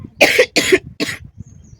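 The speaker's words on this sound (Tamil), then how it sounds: "இப்படி தான் இப்படி தான் தினமும் உட்காந்து இருமிக்கிட்டே இருக்கேன்" Three sharp, close coughs in quick succession from someone with a persistent cold, followed by quiet breathing.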